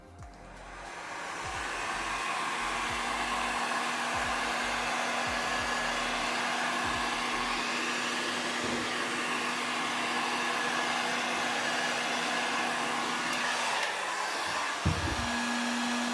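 Heat gun blowing hot air onto chrome foil wrap on a guitar body, a loud, steady close roar with a faint hum that runs for the whole stretch, ending in a brief clunk.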